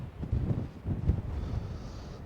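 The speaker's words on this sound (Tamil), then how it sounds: "சரியா காத்துங்க." Strong wind buffeting a microphone at a high roadside viewpoint, a steady low rumble with gusty swells throughout, loud and close, no voices.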